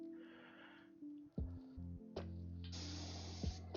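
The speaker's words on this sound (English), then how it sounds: "need to turn the airbrush on and try and reduce the spray on it" An airbrush spraying paint on a model bench while parts for a Mustang GT350H model are painted: a short hissing burst, then a louder, steady airy spray, over a low motor hum with a few handling clicks between.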